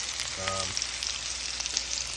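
Ribeye steak with onions and mushrooms frying in a cast-iron pan gives a steady close sizzle with crackling pops, and a brief voiced hum rises near the start.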